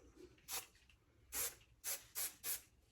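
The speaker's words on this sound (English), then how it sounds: "So again, using the Bedhead Hardhead hairspray." Bedhead Hard Head hairspray is sprayed in four short close bursts of hissing aerosol, one alone and then three in quick succession, soft and quiet overall.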